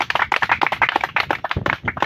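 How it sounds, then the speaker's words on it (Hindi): A close audience claps briskly and unevenly for about two seconds to welcome a young BSF recruit, with sharp, overlapping hand strikes and little else audible. "इसके लिए तालियां।"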